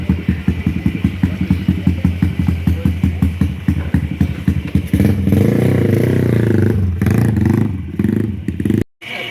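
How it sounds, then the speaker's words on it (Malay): A Yamaha X1R racing motorcycle in a garage revs in rapid, loud pulsing bursts, then holds a sustained high-revving drone before dropping away, close to the mic. "Enjin"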